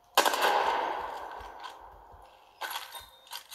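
Gunfire from a weapon in the video game Apex Legends, running on a low-end ThinkPad T430 laptop: a loud opening burst of rapid shots that fades, then a few more sharp shots near the end, with no talking.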